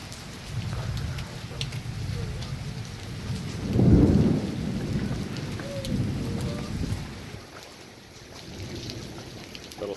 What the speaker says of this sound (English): Little thunder.